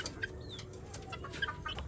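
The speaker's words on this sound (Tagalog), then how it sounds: "Ganyan ang Rhode Island Red." A Rhode Island Red chicken clucks softly at a distance, in short scattered calls over quiet farmyard background.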